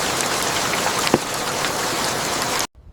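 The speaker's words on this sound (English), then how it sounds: "Rain grows louder, inside stays peaceful." Heavy rain pours onto a forest treehouse, a loud, close, unbroken hiss with a single sharper drip standing out midway, before the sound stops suddenly.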